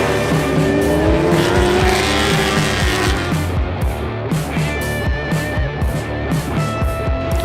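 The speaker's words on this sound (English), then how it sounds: "That's going to probably help Kyle maybe try to draft this Suzuki as they head down this back straightaway" Suzuki racing motorcycles scream down a back straightaway, engines loud and close, revving high with rapid gear-shift dips and a continuous layered roar from several bikes.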